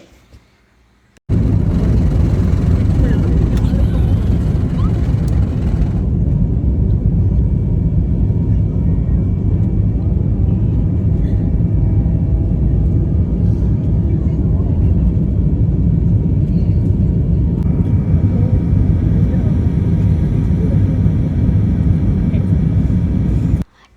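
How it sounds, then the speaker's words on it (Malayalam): From inside the cabin, an airplane takes off on a first international flight with a loud, constant engine roar and low rumble that starts abruptly and fills the space, with a brief shift in tone partway through. "അപ്പോൾ ടേക്ക് ഓഫ് ഒന്ന് നിങ്ങൾ കണ്ടിട്ട് ആയേ."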